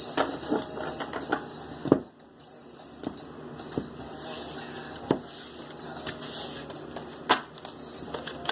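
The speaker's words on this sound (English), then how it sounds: "I'm going to cut this deck." A tarot card deck cut and handled at close range, with soft papery taps, slides and occasional sharper clicks at irregular intervals over a quiet room hum, and no talking.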